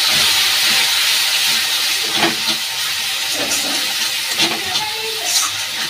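Loud hissing sizzle of spice paste frying in a pan for a jackfruit and prawn curry, with intermittent scraping and stirring knocks over the steady hiss.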